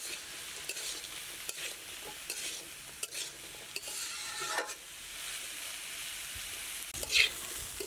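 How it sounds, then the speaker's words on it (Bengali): Bitter gourd fries uncovered in a pan with a soft, steady sizzle, punctuated by occasional scraping stirs and a sharper clink near the end, close and moderately quiet. "আমি করলা না ঢেকে এভাবে ভাজতেছি"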